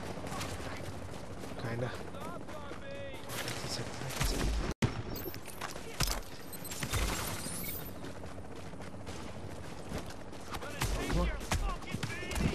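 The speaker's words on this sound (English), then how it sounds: "Who the fuck is shooting me?" Gunfire in The Division's Dark Zone rattles in dense, repeated bursts of automatic shots throughout, loud and close, while someone talks and curses over the shooting.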